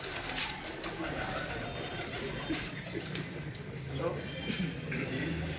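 Racing pigeons cooing and fluttering close by as three descend from above, amid outdoor bustle, with people talking throughout over a steady background murmur.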